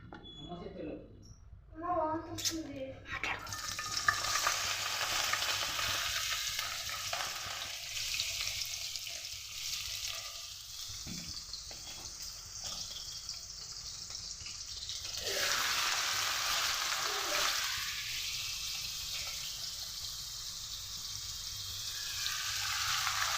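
Onions fry in oil for a home chicken curry, a steady soft sizzle that swells and dips over time with a few stirring scrapes, while someone talks throughout.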